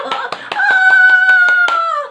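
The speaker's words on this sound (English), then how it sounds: "I'm always clapping." Hands clap about nine times in an even, quick rhythm, close and crisp, over a sustained hummed or sung tone that runs through most of the claps.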